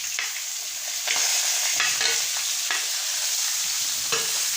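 Brinjal pieces hit hot oil with sautéed masala and crackle loudly with a broad hiss. Spoon strokes scrape the pan at a steady pace, close and unvoiced.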